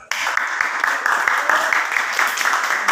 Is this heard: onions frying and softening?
no